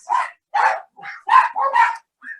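Dogs bark indoors, six sharp barks in quick, uneven succession at moderate volume, with short pauses between them. No one speaks.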